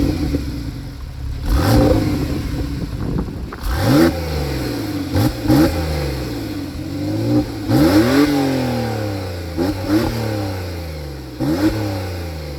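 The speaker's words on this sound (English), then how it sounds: "Taking out the 2017 Porsche 911 4 GTS Targa." A 2017 Porsche 911 Targa 4 GTS engine revs repeatedly and loudly up close, a series of sharp blips rising and falling in pitch over a steady idle, with no talking.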